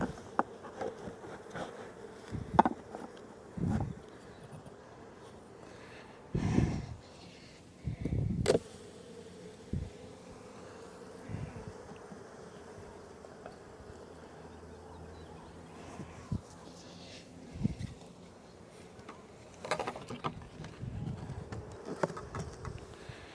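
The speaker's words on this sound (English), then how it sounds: "There are lots of bees coming in with pollen on their legs. It's a very busy hive." Honey bees buzz at the entrance of a busy hive, a faint steady drone with louder passes as individual bees fly close by.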